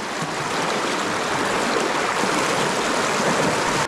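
A large river, swollen after flooding, rushes past in a loud, dense, unbroken roar of flowing water, with no voices.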